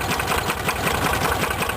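A small engine on a homemade mini tractor (IFA 2VD-8/8svl) runs at a steady, rapid idle, its chugging pulse close and loud throughout.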